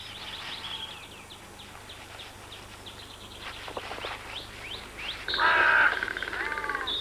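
Ravens calling in woodland during nesting season: scattered harsh calls and chirps, then a louder, nearer burst of calling toward the end.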